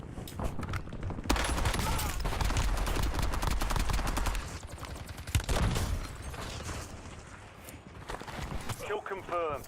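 Gunfire in Call of Duty: Warzone: dense, rapid rattling shots over continuous battle noise, with a louder burst near the middle and faint speech-like sounds toward the end.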